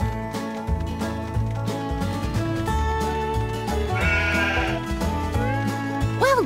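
Cartoonish sheep bleats from the Paw Patrol Academy game sound repeatedly over a bouncy melodic music track, with a rising bleat near the end.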